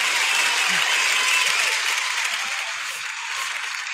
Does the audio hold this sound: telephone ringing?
no